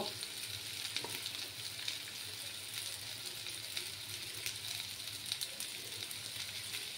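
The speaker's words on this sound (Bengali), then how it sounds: "এবার আমি মশলাগুলো দিয়ে দেব।" Potatoes and spices stir-fried in a pan for a fish curry with pepe and tengra fish, giving a steady, soft, even sizzle throughout with no talking.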